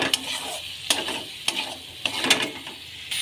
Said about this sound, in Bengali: এবার কষে নেবো এগুলো ভালো করে